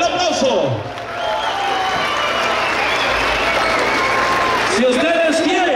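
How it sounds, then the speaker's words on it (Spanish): Crowd applause at a rodeo, where an announcer calls for clapping for a young bull rider; a steady roar of clapping and cheering fills the clip, with a voice shouting over it at the start and the end. "fuerte, el aplauso"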